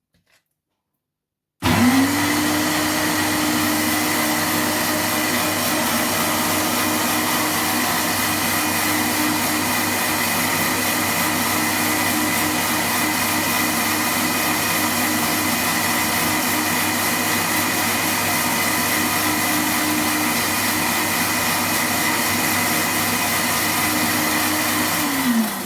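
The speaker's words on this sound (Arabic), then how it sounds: "وصوت الخلاط لسه انا عايزه ليه صوت معين كده" An electric blender whirs loud and steady as oil is slowly drizzled in to make eggless mayonnaise, starting abruptly after a moment of silence and running continuously at a constant high-pitched motor drone.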